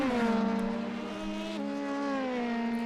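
Race car engine in a racing video game, a smooth, steady high-pitched drone with clear harmonics that drops slightly in pitch at a gear change and then holds on, heard alone without talk.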